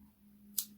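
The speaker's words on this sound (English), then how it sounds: "And then cut the" Scissors snip through excess yarn on a crocheted granny-square coin purse, one short, close, crisp cut over a faint steady hum.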